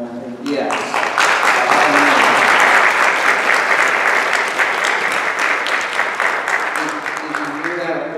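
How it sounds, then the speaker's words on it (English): A church congregation breaks into loud, sustained applause, dense clapping swelling quickly and holding steady for several seconds, with a voice faintly audible near the start and end. "Did you hear that applause?"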